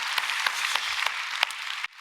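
A church congregation claps during a Korean Sunday worship service, a steady patter of hands with a few sharper claps. It cuts off abruptly near the end.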